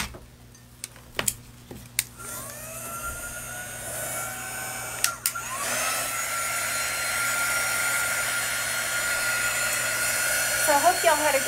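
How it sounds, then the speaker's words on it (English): A handheld hair dryer switches on partway through and runs as a steady close whir after a few clicks and taps on a crafting table; it keeps blowing to the end. "Where's my dryer?"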